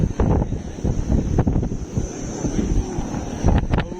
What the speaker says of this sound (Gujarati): ઠંડો એમ પવન આવે